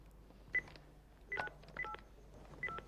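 A short run of touch-tone dialing beeps, several separate tones in quick groups, clear against a quiet background.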